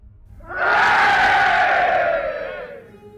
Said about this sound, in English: And the whole hall erupts in a cheer